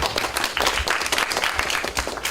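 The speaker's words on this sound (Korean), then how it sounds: "네, 박수." Applause from an audience at a Korean lecture on women's politics, a dense, steady patter of many hands clapping for about two seconds at moderate level.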